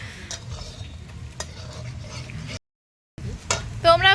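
Raw chicken tipped into a cooking pot at an outdoor Bengali picnic, with stirring scrapes and a brief sizzle over a low background rumble, a short gap of silence, then clattering and a high ringing at the end.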